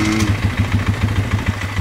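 An old carbureted vehicle engine, its carb and dirty fuel tank just drained, runs at idle with a steady low, loping putter, close by and alone.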